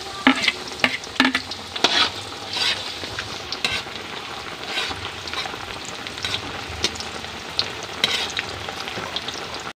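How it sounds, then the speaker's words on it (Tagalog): Onion frying in oil with garlic and ginger, stirred by hand: a steady close sizzle broken by frequent scraping and clattering stir strokes, with no talking. "Lalagay ko na rin po ang"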